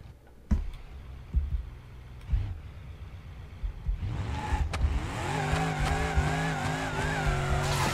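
A car in a driving video game squeals its tires through a few scattered bumps and skids, then a high revving engine note rises and holds steady to the end.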